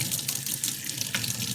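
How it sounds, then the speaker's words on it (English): Warm water runs steadily from a kitchen tap, a close, even splashing stream that carries on alone without voices. "I'm going to need some warm water."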